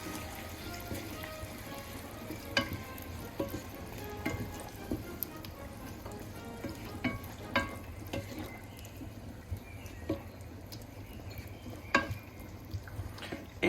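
Sauce with peeled tomatoes is stirred in a pan, soft sizzling and faint bubbling punctuated by scattered light clicks and scrapes of the spoon, quiet and close.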